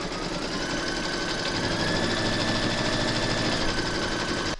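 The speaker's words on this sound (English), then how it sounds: "Pop your hoop into your machine and stitch round number 2." An embroidery machine stitches the second round of a large haunted-house applique through batting taped over the outline, a steady, continuous mechanical whir and rapid needle chatter that stays level and close throughout with no talking.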